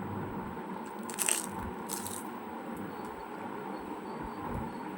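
Someone bites and chews crunchy food close up, a few crisp crunches over a steady background hum with no talking.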